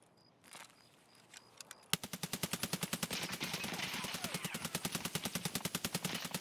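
Sustained automatic gunfire from a weapon in the video game Escape from Tarkov: a long, evenly paced stream of loud, close shots after a couple of seconds of quieter ambience and faint movement.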